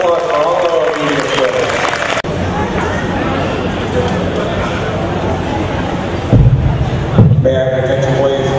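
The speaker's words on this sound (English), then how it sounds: "Let's have a big round of applause for all of our leaders." An audience at a German Shepherd national dog show applauds, with dense, steady clapping, crowd murmur and an announcer's voice over the top.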